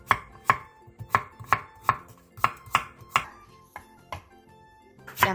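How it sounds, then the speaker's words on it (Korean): A knife slices a lengthwise-halved cucumber on the bias against a cutting board, giving about a dozen sharp, close chops at a steady rhythm that slows near the end, with no voices. "오이 1개를 길게 반으로 가른 뒤 어슷썰기 해주세요."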